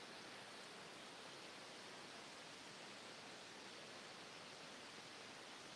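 A river flowing close by on a walk, a steady broadband rush of water with no breaks and no voices.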